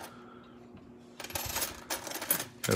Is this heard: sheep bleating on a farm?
no